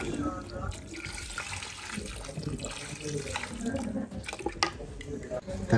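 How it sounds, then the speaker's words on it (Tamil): Water poured into a pot of Sri Lankan beef bone soup, a running splashy stream with clinks and gurgles that carries on throughout, close and moderately loud. "இந்த நிலைமையில் நான் இப்போ தண்ணியை நான் ஆட் பண்ணி கொள்கிறேன்."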